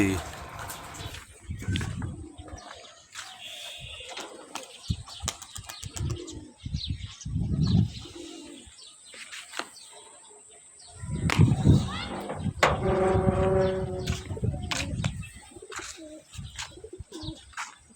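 Bangladeshi rolling pigeons coo and flap their wings close by in short bursts and longer stretches, while someone speaks intermittently among them.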